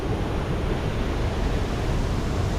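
Rushing water at Bunga Waterfall, a strong current producing a dense, steady roar that fills the whole clip without any voices.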